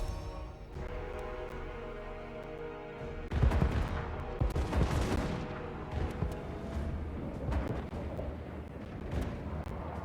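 Hellblaster volley guns in Total War: Warhammer 2 fire in dense, crackling salvos, overlapping shots building into a rumbling barrage over a steady battle din, with scattered sharper reports afterward.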